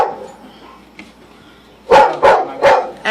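A vicious dog barks outside a house, a quiet stretch broken by a faint yip and then four loud, close barks in quick succession.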